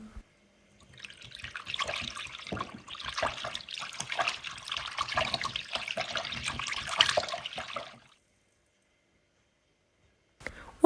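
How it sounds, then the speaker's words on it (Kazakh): Sunflower oil is poured into dough ingredients and mixed, giving a steady close trickling and sloshing for several seconds, then silence and a brief final knock. "Күнбағыс майының жартысын құйып жақсылап араластырамыз."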